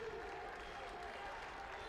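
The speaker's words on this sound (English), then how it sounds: "The crowd getting into it." Spectators cheer and clap steadily at a girls' 5000m high school invitational track race as a runner finishes, a dense, continuous wash of crowd noise with no standout voices.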